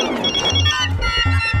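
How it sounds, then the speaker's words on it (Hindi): A mobile phone ringtone plays in an indoor comedy scene, a close, loud melodic ring that repeats in steady pulses with no voices over it. "ये जब तक फोन नहीं चकेंगे ना तब तक वो रिंग बजाता रहेगा।"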